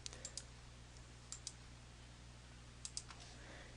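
A few faint, crisp computer mouse clicks in a quiet room, arriving in small clusters over a soft steady hum.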